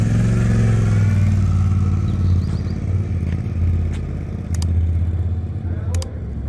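A Suzuki V-Strom 800 DE motorcycle rides off-road, its engine a steady, close, loud drone with rough mechanical clatter throughout, a few sharp ticks and knocks near the end.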